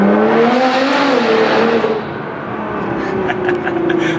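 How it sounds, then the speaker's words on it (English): A Toyota A90 Supra with an engine modification drives through a tunnel, its engine droning loud and close inside the cabin with a rising then falling tone, dipping briefly before building again with reverberant road noise. "Hopefully we get a little bit of sound out of the Supra now."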